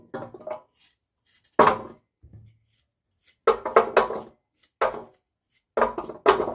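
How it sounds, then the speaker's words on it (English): Knife chopping coconut into small pieces for Jamaican coconut drops, heard as separate bursts of firm chopping strokes, close and fairly loud, with short pauses between clusters of cuts and no talking. "This is the way to cut up my coconut, right?"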